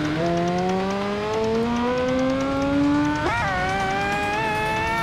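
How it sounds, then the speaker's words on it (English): A Honda CBR1000 in the racing game RIDE 2 at the Nurburgring holds a steadily rising, buzzy engine whine, then a downshift makes the revs jump sharply and climb on, loud and alone. "I'm downshifting a bike. Nothing sounds better than a downshifting bike."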